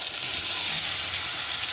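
Pointed gourd (potol) pieces frying in a pan of oil, a steady bright sizzle that stays even and close throughout.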